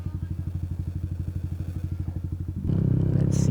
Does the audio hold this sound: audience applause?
no